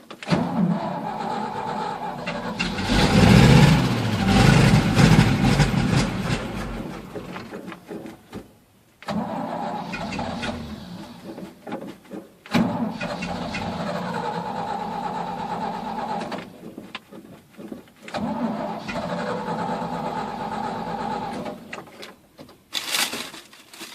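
An old engine, a 1970 C20 or 1975 C65, turns over and catches after gas is poured into the carburetor, cranking in several separate bursts with brief pauses between, fairly loud and close, with no talking.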